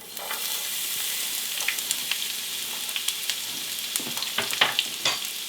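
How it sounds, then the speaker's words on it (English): Onions fry in very hot bacon drippings in a skillet, a bright, steady crackling sizzle with scattered sharp pops and spatters that grow busier toward the end. "So that is what is going into my very hot bacon drippings."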